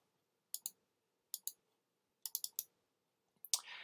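Mouse clicks in the Gephi network software while importing a spreadsheet: single and double clicks in quick pairs, crisp and close, with a sharper burst at the end, no talking.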